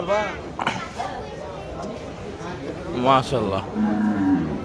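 Cattle at a busy livestock market low repeatedly, with drawn-out moos rising near and loud over a crowd of voices and people talking close by.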